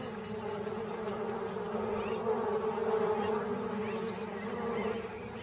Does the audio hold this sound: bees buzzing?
yes